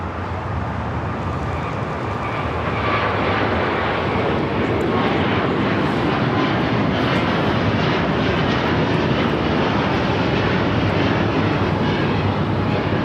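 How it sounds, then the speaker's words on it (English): A Qatar Airways Airbus A350-1000 taking off at Los Angeles airport, a loud, sustained broadband jet engine roar that stays strong and steady throughout. "This is Qatar Airways 740 taking off to Doha on the A350 1000."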